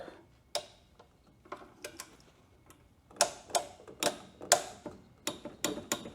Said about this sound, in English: start cranking on it and wait for the satisfying click